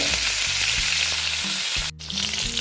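Pieces of shol fish (snakehead) fry in hot oil with a loud, continuous hissing sizzle and a few low knocks from the pan, cut by a brief break near the end.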